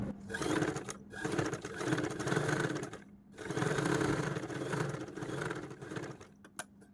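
A sewing machine stitching the back part of a dress, several close bursts of rapid whirring mechanical running separated by short pauses, with a few clicks at the end and no talking.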